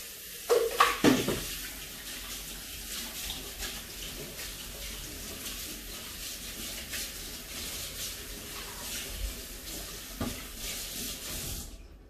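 Dishes washed by hand under a running kitchen tap, a steady soft stream of water with clinks, rubbing and splashes, louder knocks near the start, no talk.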